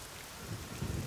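A thunderstorm with steady rain hisses close by as a deep rumble of thunder rolls in, brief and low under the downpour.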